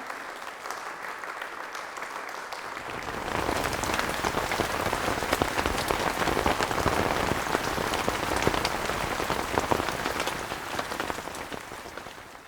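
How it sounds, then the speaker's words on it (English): Real rain pattering on a suitcase, a dense, steady crackle of drops that starts soft and swells to a full, close downpour after a few seconds, continuing without talk. "Here are some clamps together with a real rain on the suitcase."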